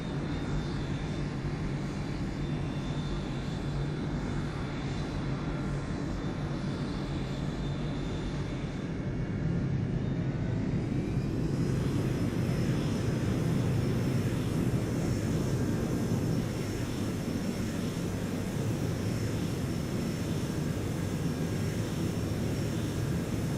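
An airliner lands at Sydney in the FSX flight simulator game, a steady engine roar and rumble that shifts and grows rougher midway through as it rolls out, with no speech.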